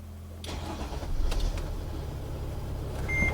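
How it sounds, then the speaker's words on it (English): A Mercedes Sprinter van engine cranks and catches after a transmission replacement, then settles into a steady, fairly loud idle close by with no talking. "So go ahead and start the engine."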